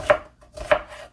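An onion being chopped with a chef's knife gives two crisp, close knife strikes on a board about half a second apart, followed by a fainter tap.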